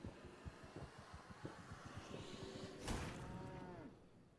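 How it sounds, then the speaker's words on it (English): A cow moos once in V Rising, a faint, drawn-out low call that rises near the end, following a run of soft rhythmic clatter. "Oh, the moo wasn't loud enough."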